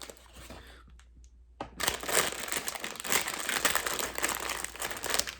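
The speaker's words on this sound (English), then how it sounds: "Inside the paper bag, there is a plastic bag." A plastic bag inside a paper bag crinkles continuously, with a brief pause before the rustling resumes louder and steadier for several seconds, close by.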